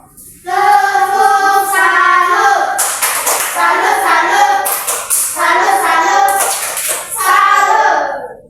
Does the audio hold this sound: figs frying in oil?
no